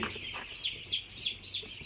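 Soft, repeated chirpy clucks from three-day-old poultry chicks, a few short calls in a row over a low background hum, fairly quiet and not very close.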